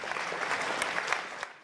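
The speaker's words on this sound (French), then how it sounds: "je vais vous demander de les applaudir." An audience at a French plenary event for the Ose Ton Futur 2022 programme applauds its speakers, a full, close wash of many clapping hands with a few sharper claps standing out before it begins to fade.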